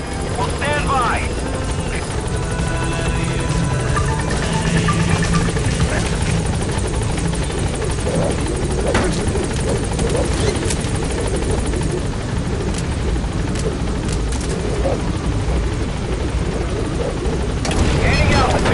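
The Pequot helicopter sets down at a landing zone in Metal Gear Solid V, its loud rotor roar and turbine whine steady and close throughout, with radio voices talking over it.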